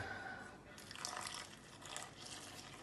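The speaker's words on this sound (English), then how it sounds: "Now I have 750 milliliters of water. I will pour in as required" Water pours and splashes steadily into a bowl of dhokra batter for a few seconds, a soft continuous liquid gurgle with no talking.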